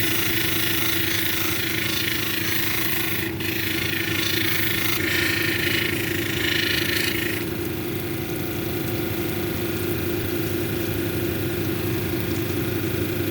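A 600 grit polishing wheel working an unakite cabochon, giving a loud, steady motor hum and whir with a hissing grind layered on top that shifts slightly partway through, continuous and without talk.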